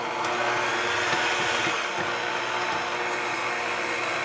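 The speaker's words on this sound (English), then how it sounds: "I'm gonna go ahead and knead this for 8 minutes" A stand mixer works Naples-style pizza dough made with 00 flour, a steady whirring motor drone with faint rhythmic thumps, close and continuous, with no talk.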